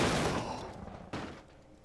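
A car smashing into a road sign in the driving game BeamNG: a loud crunching impact that fades, a second sharp burst about a second later, and a brief hit at the very end, with no talking.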